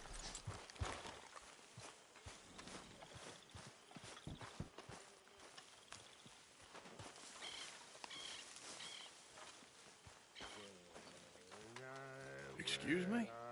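Horse hooves clip-clop at a walking pace in the game Red Dead Redemption 2, faint beneath people talking, with a brief musical swell near the end.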